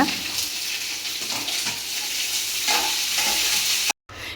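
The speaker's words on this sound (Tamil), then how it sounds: "இப்போ நம்ம வதக்கி வச்சுருக்கோம்ல வெங்காயத்தான் அதையும் போட்டு நல்லா வதக்கிக்கோங்க" Onions with ginger, green chili and garlic sizzle in a pan for Pattukkottai-style tomato chutney while a spoon stirs and scrapes in bursts, a close, steady frying sound that cuts out briefly near the end.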